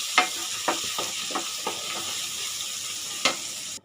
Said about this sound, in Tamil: இப்போது இதை நல்லா கிண்டிக்கோங்க. தக்காளி நல்லா வதங்குற வரைக்கும் வெயிட் பண்ணுவோம்